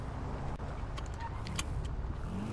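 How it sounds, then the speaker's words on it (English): Car driving in GTA V, a steady low engine and road rumble running continuously and fairly loud, with a few faint higher clicks and tones over the top. "the car should make it, so we'll take the car."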